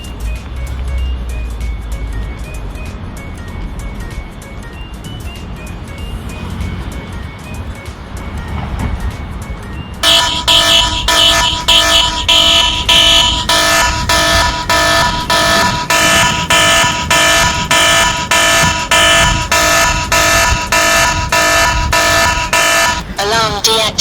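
An ENFITNIX XLITE BT bicycle tail light anti-theft alarm kicks in partway through, beeping in rapid repeated pulses with a shrill siren-like tone over outdoor background noise and voices.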